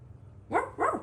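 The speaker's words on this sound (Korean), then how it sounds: "강아지 어딨어 강아지 월월월월" Two quick barks in a row, moderately close, over a faint low background hum, no speech, heard during a baby's picture-book time at home.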